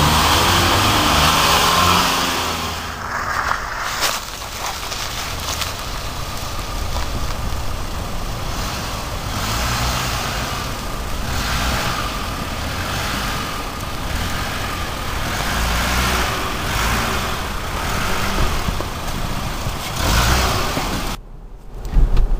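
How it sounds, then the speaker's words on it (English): A 2013 Mitsubishi RVR GT crossover with all-wheel control pulls away from a dead stop, its engine droning and rising steadily over about twenty seconds with road and wind noise. "I want to quickly demonstrate how easy it is to get the RVR going from a dead stop with the all-wheel"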